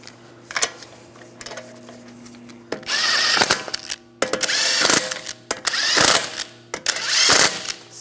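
Power tool spinning lug bolts onto the front wheel of a 2009-2013 BMW 328i xDrive: a few faint short whirs at first, then several loud, close bursts of rapid whirring with brief pauses between.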